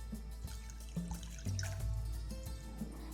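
A cup of water poured into a pan for the sugar syrup of a stovetop baklava, giving a close trickling, splashing stream with small irregular drips and gurgles.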